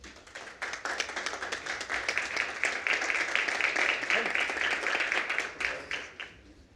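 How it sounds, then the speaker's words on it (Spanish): An audience at a formal report presentation breaks into strong applause, many hands clapping in a dense burst that swells, holds steady for several seconds and then tapers off. "Un fuerte aplauso"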